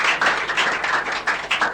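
A small group claps for a band in a studio setting, giving a short run of near, uneven handclaps with no talking over them.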